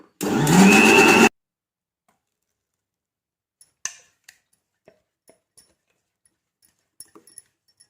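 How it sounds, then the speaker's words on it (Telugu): A mixer grinder blends soaked brown top millet with its soaking water into dosa batter, a loud dense whir lasting about a second before cutting off, followed by faint scattered clicks and taps. "ఇవే వాటర్ని వేసి మనం మిక్సీ పట్టుకోవాలి"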